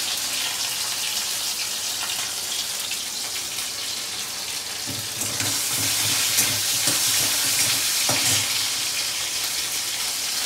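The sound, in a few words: dried chilli and spices sizzling in hot oil tempering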